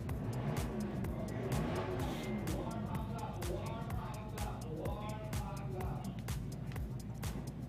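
Race car engines drone steadily on a track during a championship race meeting, a continuous close roar with sharp repeated clicks, heard under loud announcer commentary.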